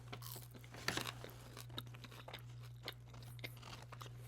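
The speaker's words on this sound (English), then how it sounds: "I have my fries. Let me try one." Close, crisp crunching and chewing of McDonald's fries, several bites and chews in quick irregular succession over a low steady hum, with no talk.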